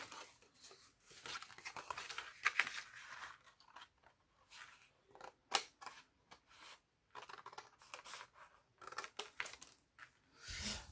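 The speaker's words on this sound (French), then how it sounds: "je me demande pourquoi j'ai pris un gros ciseau comme ça" Large scissors cut through paper for a Valentine's gift box, a faint series of irregular close snips and crisp rustles with short pauses between.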